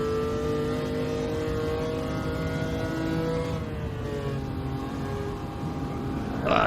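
A car engine in Gran Turismo 7 holds a steady high drone with harmonic lines that dip and rise across slow gear changes, loud and continuous, with a brief surge at the end.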